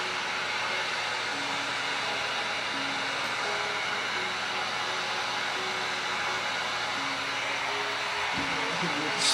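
Steady, loud hot-air blast from a heat gun or hair dryer warming a Gunskins vinyl wrap on a Glock 19 pistol, an unbroken whooshing rush that holds level throughout with a small bump near the end.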